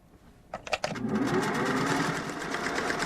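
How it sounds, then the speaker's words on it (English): A sewing machine stitches an ermine tail, starting with a few clicks and stutters before settling into a steady, fast, close mechanical whir. "Julie's sewing tails for a group of friends who call themselves furries."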